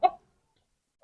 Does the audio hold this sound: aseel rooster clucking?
yes